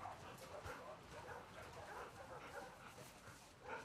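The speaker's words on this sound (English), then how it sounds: "Hey, you crazy dog." A dog in The Last of Us Part II gives short yips and soft whimpering barks, quiet and fairly close, mixed with faint game ambience.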